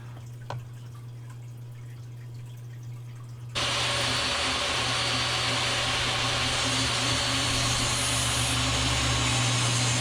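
A strip of Redheart wood being cut for segmented woodturning rings: a brief faint click, then a loud, steady power-saw whine that starts abruptly partway through and runs continuously to the end, with no talk.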